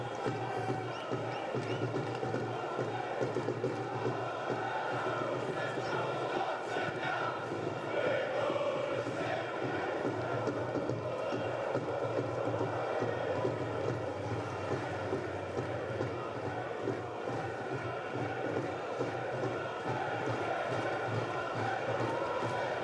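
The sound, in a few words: football stadium crowd, Portsmouth v Leeds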